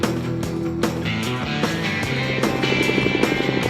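Helicopter flying over the Selkirk mountains in snowy wilderness, a steady loud rotor and engine drone with rhythmic blade chop throughout, no voices.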